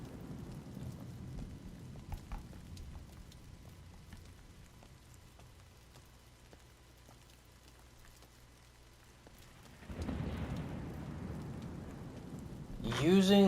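Steady rain falls through a thunderstorm in the video game Dreams, a constant hiss that swells louder toward the end with a low rumble, with no talking.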